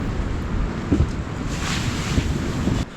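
Strong gusting wind batters the microphone at the Ulsanbawi Point campsite in Goseong, a loud continuous low rumble with buffeting surges and flapping, steady throughout before easing at the very end.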